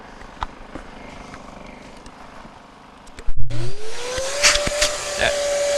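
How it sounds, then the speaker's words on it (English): A gold-prospecting vacuum starts up after a quiet stretch and whines up to a loud, steady roar, sucking bedrock gravel with rattling bursts of stones up close. "we're going to turn on our vacuum and finish the job right. This is going to make some noise"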